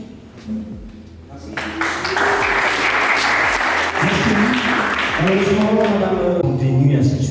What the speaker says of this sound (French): On applaudit s'il vous plaît la deuxième édition de la conférence internationale